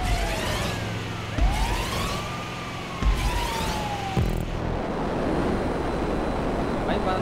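Ambulance siren wailing in the GTA 5 video game, rising and falling sweeps repeating several times at moderate loudness over a steady engine and road rumble, fading into noisy rushing sound near the end.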